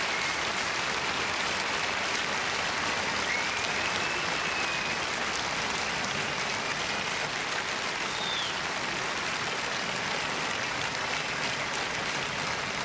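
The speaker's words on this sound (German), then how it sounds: "Verdienter Beifall für die Finalistinnen, für die Siegerin und die Unterlegene." Sustained applause from a large crowd for the finalists after the 1986 German Open women's tennis final, a dense, even roar of clapping that holds steady throughout without pause.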